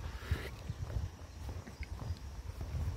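Horses' hooves clip-clop steadily on a road during a horseback pilgrimage, a continuous uneven patter of several animals at moderate distance, with outdoor background noise.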